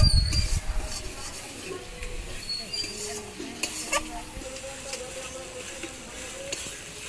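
A pan of chicken bhuna masala fries with a steady low sizzle while a spoon stirs it, scraping and knocking in short irregular strokes up close.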